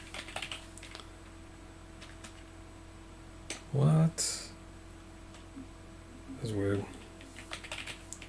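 Sparse clicks of typing on a computer keyboard with a stuck key, quiet and intermittent, while a person speaks briefly twice in the middle.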